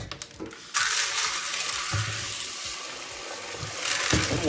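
Running water gushes steadily from a tap for a quick rinse while preparing djak pwa, a close, continuous splashing flow after a brief clatter at the start.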